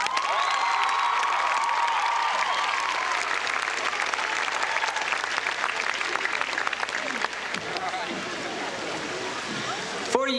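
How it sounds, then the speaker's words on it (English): Seniors at a 1997 high school graduation ceremony in Walla Walla give sustained applause and cheers for their ASB president, a broad crowd roar that holds steady for about ten seconds before thinning slightly. "Seniors, give a warm round of applause to a National Merit Scholar and your own ASB President, Thomas Joseph Walker."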